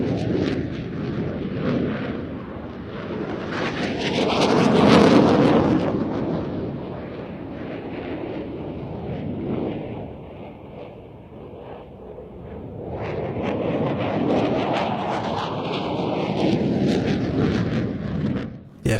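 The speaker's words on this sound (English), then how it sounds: "The F-16 completing that Cuban 8, and both aircraft heading out to the left-hand side for the next manoeuvre." JF-17 and F-16 fighter jets fly at an air show, their engine roar swelling loud around two passes and fading between, heard from the ground at a distance.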